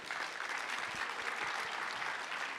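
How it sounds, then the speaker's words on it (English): Audience applause at a startup demo day, a steady dense burst of clapping from a crowd sustained evenly throughout with no voices. "Let's give them a big hand of applause again."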